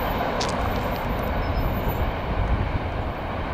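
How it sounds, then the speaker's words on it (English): A CSX manifest freight train with a Cotton Belt boxcar passes close by, giving a loud continuous rumble and roar of rolling wagons with faint high squeals above it. "Cotton belt Hydra cushion boxcar on that one."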